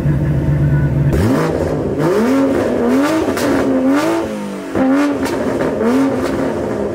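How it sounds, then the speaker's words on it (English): A loud Toyota Supra engine revs up close, climbing and falling in repeated throttle blips over a steady idle, with a brief dip before the final revs and no talk. "Ethan's car is loud, Supra"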